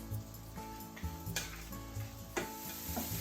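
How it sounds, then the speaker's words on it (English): Green beans sautéing in a pan, a steady close sizzle broken by several stirring scrapes and clinks of a utensil against the pan, with no talking. "And saute for 3 to 4 minutes."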